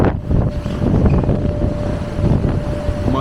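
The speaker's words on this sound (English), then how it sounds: "but the wind is crazy" Strong wind roars across the microphone at night outside a coach stopped near the sea, a loud, steady broadband rush with gusty swells and no voices.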